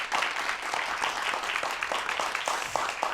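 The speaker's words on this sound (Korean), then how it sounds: "오늘 정말 너무 소중한 이야기 해주신 선생님께 다시 한번 큰 박수 보내주세요." Studio audience applauding on a Korean educational talk show after a primary school teacher's segment on math as play, a steady moderate wash of clapping with no talk over it.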